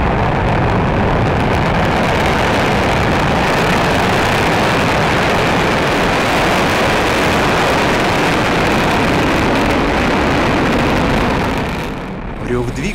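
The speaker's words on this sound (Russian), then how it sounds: "Рёв двигателей." A rocket launching from Baikonur Cosmodrome, a loud, continuous broadband roar with deep rumble that holds steady for about eleven seconds, then drops away abruptly.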